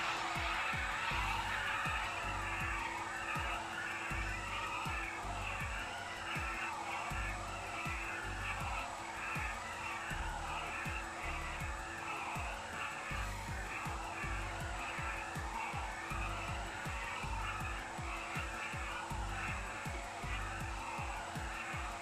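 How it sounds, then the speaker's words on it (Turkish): A 2016 Volkswagen Passat in GTA 5 doing a tire burnout, with a steady engine roar and screeching, skidding tires held continuously at a moderate level throughout. "Biraz lastik yakalım."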